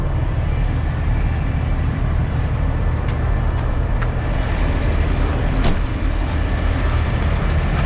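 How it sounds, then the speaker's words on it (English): Idling truck engine on an icy road, a loud continuous low rumble heard from inside or right beside the vehicle, steady throughout with a few faint clicks. "It's gonna be loud because I'm running the truck"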